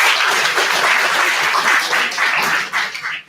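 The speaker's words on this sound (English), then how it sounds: "Let me have a big round of applause." Big audience applause at a college fest event, dense sustained clapping that fades slightly toward the end.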